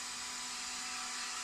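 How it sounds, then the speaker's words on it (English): Vacuum suction on a high-definition flexo printing machine runs as a steady, continuous airy whoosh with a faint low hum, unchanging throughout. "When the machine is on, all the vacuum will be on automatically."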